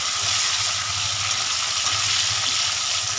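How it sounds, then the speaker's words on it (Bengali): Chicken curry cooks and is slowly stirred in a frying pan, giving a steady, even hiss and sizzle with soft low scraping underneath. No one speaks. "আমি এটা আস্তে আস্তে নাড়তে থাকবো।"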